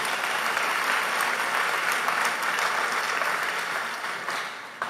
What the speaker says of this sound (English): I thought that's a good place to clap